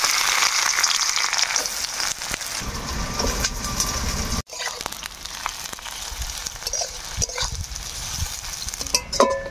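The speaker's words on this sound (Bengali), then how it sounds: "আমার তেল গরম হয়ে গেলে দিয়ে দিব হচ্ছে পেঁয়াজ" Onions hitting hot oil in a pan, a steady loud sizzle and crackle that continues with faint stirring scrapes, a brief dropout midway.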